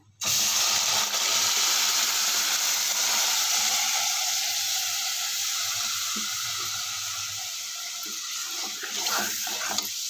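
Ground masala paste hitting a hot pan while cooking sorakaya sambar, a loud steady sizzle and hiss that holds for several seconds and slowly eases, with faint clinks near the end.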